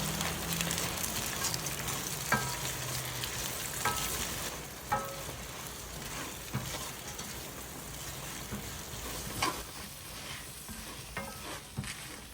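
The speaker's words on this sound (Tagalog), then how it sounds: "Kapag mainit na ang mantika, ilagay ng mga hipon o shrimp. Cook for a few minutes." Shrimp frying in hot cooking oil in a pan, a dense crackling sizzle with scraping stir strokes, loud at first and then settling slightly quieter.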